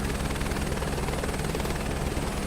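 Red and blue Airbus H125 helicopter in Microsoft Flight Simulator 2024, a steady, even rotor drone and engine hum heard from inside the cockpit with no talk.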